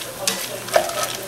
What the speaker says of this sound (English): Mix all that stuff up from the bottom just to the top.